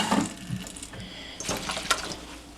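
Water splashing and draining from washed kale in a strainer, irregular wet sloshes and trickles close by, with a sharper splash near the end.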